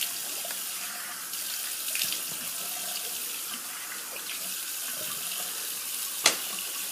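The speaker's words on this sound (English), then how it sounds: "I'm just going to rinse off my face here. A little cold water." Cold tap water runs steadily into a bathroom sink while a face is rinsed after a straight-razor shave, a close, even hiss with faint splashes and a sharp clink near the end.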